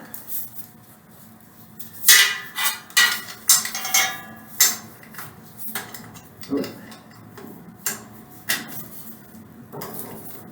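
Metal wrench clinking and knocking as it is handled and fitted, a series of sharp close taps and scrapes with short pauses between them, no talking.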